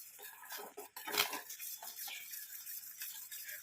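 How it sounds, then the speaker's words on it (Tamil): A spoon scrapes and clinks against a pan while stirring a thickening mixture over a low flame. Quiet, irregular metallic taps and scrapes come close up, with no talking. "இன்னும் கூட நம்ம ஃப்ளேமை குறைச்சி வச்சுக்கிட்டு நல்லா மிக்ஸ் பண்ணிகிட்டே இருக்கலாம்"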